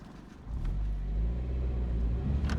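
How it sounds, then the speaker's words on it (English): A Toyota MR2 engine idling steadily after a motor swap, a close low rumble with a faint rise near the end. "Motor's running nicely."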